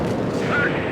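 Anti-aircraft artillery fire in the Vietnam-era combat flight simulator Strike Fighters 2 Vietnam, during an F-100 Wild Weasel mission, heard as a brief, dense, loud roar of rumbling blasts with no gaps.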